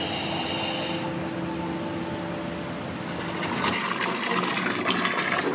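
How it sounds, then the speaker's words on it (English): Water rushing steadily into a heated birth pool at home during labour, a continuous close hiss and gush of filling that grows rougher and louder toward the end, with no talking. "The midwife is going to go and fill up the birth pool"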